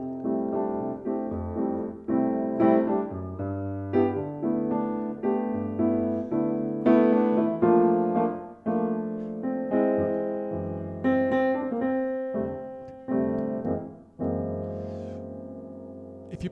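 Solo jazz piano plays chords voiced in thirds, a steady sequence of struck chords, each ringing and decaying before the next. It is close and clear, with no talking.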